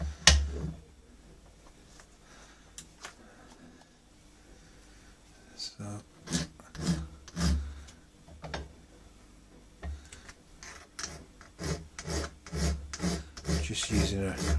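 A coarse warding file rasps across a new screw being trimmed during repair of an antique Gibbs of Bristol over-and-under pistol, close scraping strokes that come sparse at first and then quicken into a steady rhythm, with someone talking over part of it.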